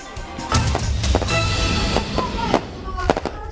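Fireworks crackle and pop continuously in sharp bursts over a dense rumbling wash, with a concert crowd audible underneath, in El Nido, Palawan.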